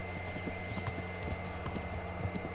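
Horse hooves clip-clopping on horseback in the video game Kingdom Come Deliverance: a steady, rhythmic trot of hoofbeats over constant game ambience.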